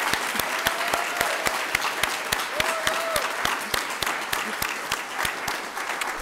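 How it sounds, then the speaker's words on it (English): Steady applause from a lecture audience for visiting artists, sharp individual claps crowding together over the whole span at an even, moderate level, with a faint voice or tone briefly audible underneath. "let them hear our gratitude by a round of applause"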